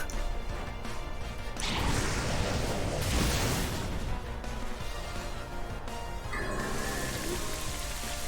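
Steady rain falls in the Pokémon Scarlet video game, a continuous broadband hiss with a heavier crashing burst midway, no talk over it.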